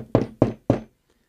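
Three sharp knocks on a wood lathe's tailstock to shake dust and shavings loose, evenly spaced and close, each a dull thunk with a short decay, followed by quiet.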